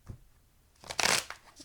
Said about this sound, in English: I don't know why I'm shuffling the cards.